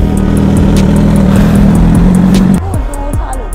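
A KTM motorcycle engine runs with a loud, steady buzzing drone that cuts off abruptly, followed by quick throttle blips rising and falling close by.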